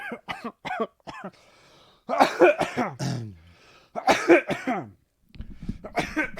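Someone coughs repeatedly in rough, raspy bursts and clears their throat, close to the listener, with short quiet gaps between fits.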